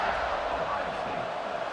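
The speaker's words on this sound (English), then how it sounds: "this crowd is buzzing after that last score" Stadium crowd buzzing in the EA Sports College Football 26 video game, a steady broadband roar of many voices held at an even level throughout with no single shout standing out.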